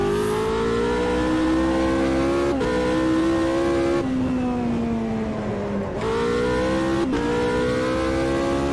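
A loud race car engine from the Automobilista 2 sim racing game howls continuously, its pitch climbing through the gears with sharp drops at each upshift and a dip while lifting off before revving back up.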